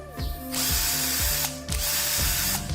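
An IMAX 12V cordless drill driver, rated around 2,004 RPM, runs in short repeated bursts, its motor whine starting and stopping with ratcheting clicks, close and loud with no talk.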